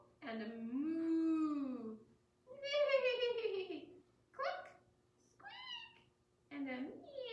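A voice imitates a cat, giving several drawn-out meows in a row with short pauses between, close and clear.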